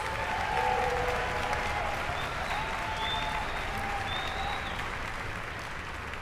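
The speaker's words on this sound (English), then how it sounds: "let's give all of them a round of applause" A large audience gives a sustained round of applause at the All Philadelphia High School Music Festival, dense even clapping filling the hall at a steady moderate level, with a few faint calls rising above it.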